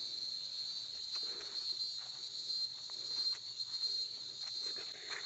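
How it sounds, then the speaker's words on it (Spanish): Cicadas buzz in a steady high-pitched drone that doesn't let up, fairly faint, with soft rustling outdoor ambience underneath beside a creek. "Escuchen el ruido. Es el ruido de las chicharras."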